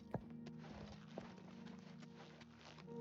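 Horse hooves clip-clop in the video game Oblivion Remaster, a faint, steady run of soft hoofbeats under a continuous low ambient hum.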